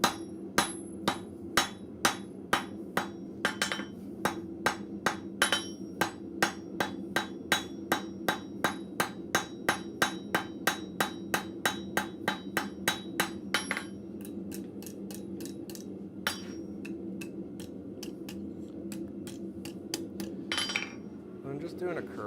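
Blacksmith hammering steel on an anvil, a long run of sharp ringing strikes in a quick even rhythm, pausing and then resuming with a few scattered blows, heard close up and alone.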